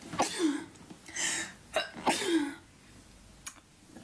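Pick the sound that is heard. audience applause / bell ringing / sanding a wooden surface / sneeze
sneeze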